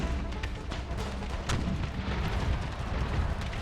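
Artillery fires on a Civil War-era battlefield in an Empire: Total War mod, with dull distant booms and scattered cracks of musketry over a steady rumbling battle din.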